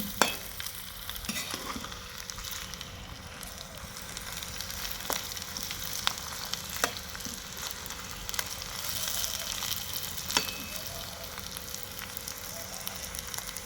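Sliced bitter gourd (karela) fries in hot oil in a home Punjabi kitchen, a steady close sizzle with scattered sharp pops and light stirring scrapes throughout, no voices.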